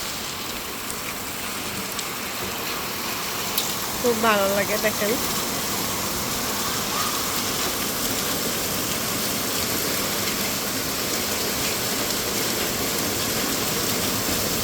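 Heavy rain pours on a road while someone is caught out in it, a dense steady hiss filling the whole stretch, with a voice talking briefly over it.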